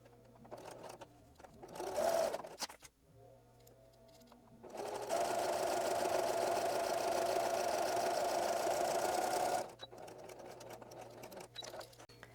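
Sewing machine stitching corner to corner across homespun fabric squares for a rag quilt, a short burst followed by a long steady run of fast motor-driven stitching, close and loud, then stopping.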